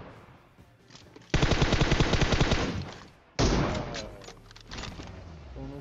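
M4 rifle fire in PUBG Mobile: two long, loud bursts of rapid automatic shots close by, with quieter shots and rattling between and after them.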